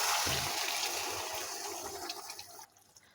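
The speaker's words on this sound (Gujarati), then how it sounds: "આપણે બે ટેબલ સ્પૂન જેટલું ગરમ પાણી ઉમેરી ઉમેરીશું" Hot water is poured into cooking aloo-matar gravy in a pan with a loud, rushing splash and sizzle that gradually fades over a few seconds.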